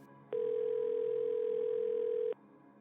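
A single steady telephone tone from an unanswered call holds at one pitch for about two seconds, then cuts off, clear and alone against near silence.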